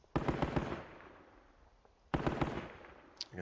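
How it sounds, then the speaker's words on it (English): A 30 cal machine gun fires in the video game Squad Battles: two loud bursts of rapid shots, each trailing off in a short echo. "We do have a 30 cal machine gun. This one's support fire, so just open up with this."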